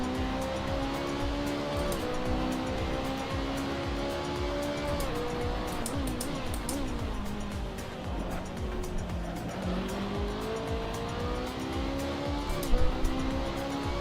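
A race car laps a track, its engine note rising and falling steadily through gear changes and corners, loud and continuous, with a brief sharp sound near the end.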